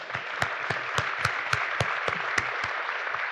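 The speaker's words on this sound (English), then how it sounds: "Let's give these folks a round of applause." Steady applause from an audience, a broad wash of clapping with a few louder individual claps standing out in a regular rhythm.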